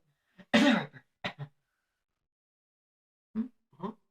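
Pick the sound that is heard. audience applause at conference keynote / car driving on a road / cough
cough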